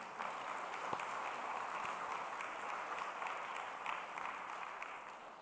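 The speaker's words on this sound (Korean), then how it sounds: "여러분, 격려의 박수 한번 이분들 좀 해주세요." A church congregation claps in encouragement during a Sunday service, a steady, fairly faint wash of many hands that holds evenly for several seconds with no voices over it.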